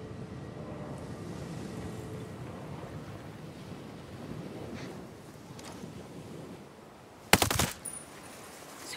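A single sharp gunshot cracks out loudly near the end in Ghost Recon Breakpoint, cutting through a quiet bed of wind and distant surf, followed by a brief echoing tail.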